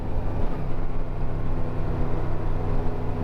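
Engine drone of a Yamaha Royal Star cruiser motorcycle on a ride from Walhalla, South Carolina to Dillsboro, North Carolina, a steady close rumble with continuous low throbbing and no talk.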